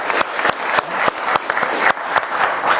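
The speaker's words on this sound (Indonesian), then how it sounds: "Tepuk tangannya boleh dong buat Pak Rahim." Dense applause from a crowd, steady and fairly loud throughout, with individual sharper claps standing out at irregular moments.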